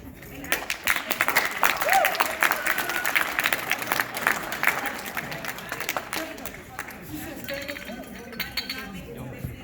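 Seniors at a high school meeting break into a loud, dense round of applause in a large room, with cheering voices and crowd chatter mixed in before it thins out to scattered claps.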